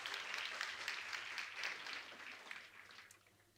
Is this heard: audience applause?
yes